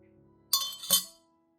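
Two quick glassy clinks, like a spoon tapping the inside of a glass cup as a tablespoon of coffee is added, close and clear in a quiet room.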